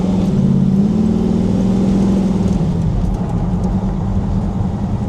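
A blueprinted 383 V8 in a restored 1969 Chevrolet Camaro SS restomod runs loud and close, with a steady rumbling idle that swells into a rev early and then settles back to a rough, even burble.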